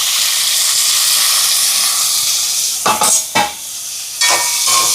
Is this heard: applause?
no